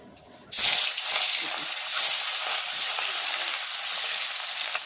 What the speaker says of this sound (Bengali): তেলের মধ্যে যে নুন হলুদ মাখিয়ে রেখেছিলাম ওইটা আমি তেলের মধ্যে ছেড়ে দিচ্ছি